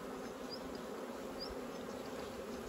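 Honeybees packed into a small box padded with synthetic batting give off a steady, low, muffled hum that holds at an even level throughout.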